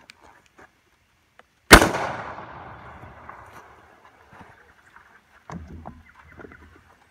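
A single loud shotgun blast from an Adler A110 lever-action with a 28-inch barrel cracks sharply and rings off into a long decaying tail, followed later by a faint thump.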